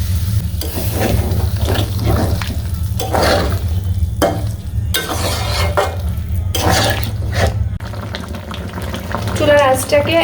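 Coconut milk curry with potato, soybean nuggets, cashew and poppy seed simmers in a pan, giving a steady close bubbling sizzle broken by repeated scraping stir strokes, with a brief voice near the end.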